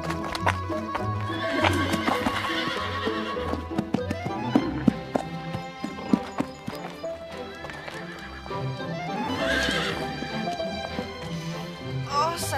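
Horses in a stable neighing and whinnying over clip-clopping hooves, with tapping and shuffling, a lively mix of near animal calls and hoof steps throughout.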